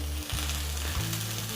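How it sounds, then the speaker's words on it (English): Vegetables sizzling in hot olive oil in a pan, a loud continuous crackling fry with a low steady hum beneath, close and unbroken by talk. "So we should hear a bit of a sizzle."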